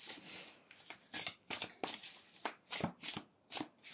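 Tarot and oracle cards shuffled by hand, a run of quick papery riffles and soft slaps in close, uneven bursts with no voices.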